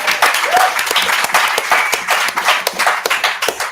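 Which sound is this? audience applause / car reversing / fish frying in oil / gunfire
audience applause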